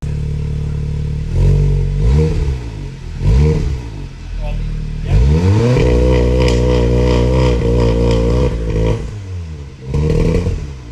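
VW Golf R engine with the resonator deleted, revved in several sharp bursts that climb and fall back to a rough idle, loud and close, with a longer sustained rev in the middle.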